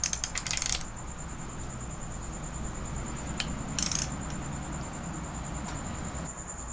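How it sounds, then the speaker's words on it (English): A wrench tightens bolts during assembly of a Mitsubishi 4G63 engine, with a quick run of metallic ratcheting clicks at the start and another brief burst midway, over a steady low room hum. "Let me tighten everything with the wrench this time."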